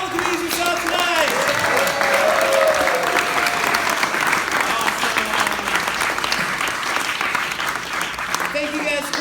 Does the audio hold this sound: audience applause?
yes